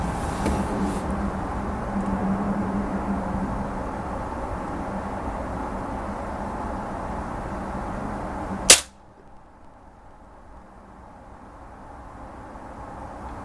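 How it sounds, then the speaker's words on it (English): A single sharp crack from a Baracuda Light air rifle rings out near the end, cutting through a steady background hiss that drops away to near quiet afterward. "So I'm going to take another shot"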